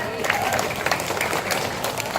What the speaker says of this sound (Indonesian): Tepuk tangan di sini meriah.